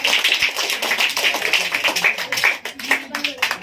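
Children applauding loudly at a school ceremony, a dense stretch of clapping that rises and falls, with a voice speaking over it.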